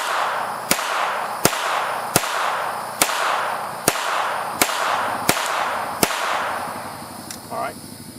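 Eight sharp, loud .22LR rifle reports ring out outdoors with no suppressor, fired down a road at an even pace about three quarters of a second apart, each with a short echoing tail.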